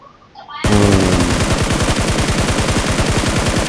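Rapid automatic gunfire from the battle royale game PUBG bursts in after a brief quiet start and rattles on loud and continuous, a dense stream of shots with no speech.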